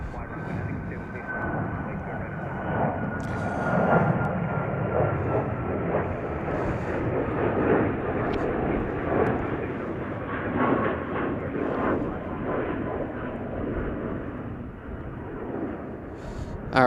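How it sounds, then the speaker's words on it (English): UPS Boeing 767-300 freighter landing at Chicago O'Hare, a steady broad jet roar with engine whine, heard from a spotting position for the whole stretch without much change. "just landed UPS 5608 from Louisville, Kentucky on a Boeing 767-300ER. 767-300 freighter, that is."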